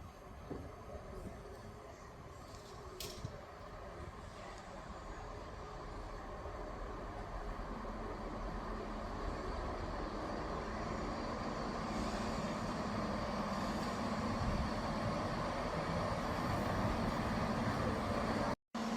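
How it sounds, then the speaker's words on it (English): A three-carriage ScotRail diesel train on the Dundee service draws into the platform at Edinburgh Gateway station, a low engine rumble and rolling rail noise growing steadily louder and nearer over about eighteen seconds before cutting off abruptly. "The train arriving at platform 2 is the 12:08 service to Dundee"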